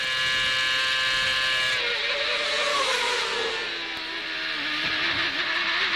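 A CART race car at qualifying in Vancouver in 2002 runs hard over 2.5-inch-tall curbs, its loud high-pitched engine note droning steadily and then dipping as the car rides the kerbs.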